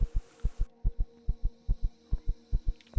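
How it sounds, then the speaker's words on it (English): In the survival video game Empyrion Galactic Survival, a heartbeat throbs in steady paired thumps, about ten beats, loud and close over a low background hum. "Heartbeat."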